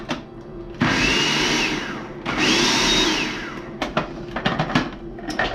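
A food processor with a blade attachment blitzes flour, salt and sugar in two loud, steady whirring bursts of about a second and a half each, followed by a few short pulses.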